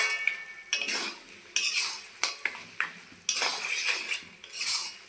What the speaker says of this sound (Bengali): তো আমি একটু গরম মশলা গুঁড়ো দিব অল্প করে। ভালো করে মিলিয়ে দিচ্ছি।